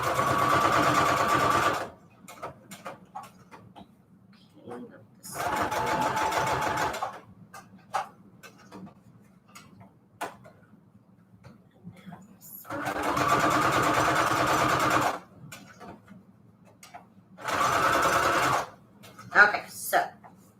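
A sewing machine runs in several bursts, straight stitching fabric onto manila tags, each run lasting a couple of seconds with quiet pauses and small handling clicks between, close up.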